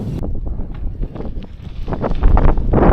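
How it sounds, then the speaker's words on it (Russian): Steady wind roaring into the microphone during a long forest bicycle ride, with low rumbling buffeting and fluctuating gusts that build louder toward the end. "Есть такое ощущение, что этот ветер просто выбешивает уже."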